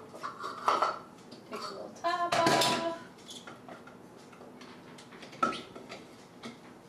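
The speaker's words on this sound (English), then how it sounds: "We're adding the onions now." Onions tipped into a cooking pot at home, giving a few clattering knocks and scraping metallic clinks of pot and utensils, loudest in a short burst midway, with quieter handling sounds around it.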